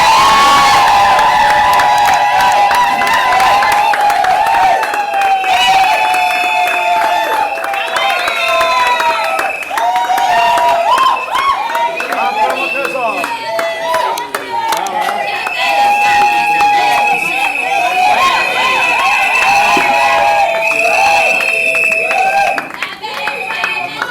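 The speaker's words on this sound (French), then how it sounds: "acclamons Trésor!" A crowd at a civil wedding cheers, whoops and applauds loudly and continuously, with clapping and shouting voices mixed into the sustained roar.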